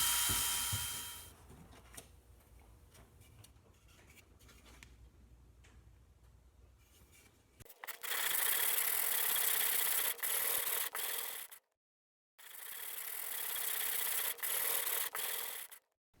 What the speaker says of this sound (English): It took a lot of sanding to form the radius in the fretboard.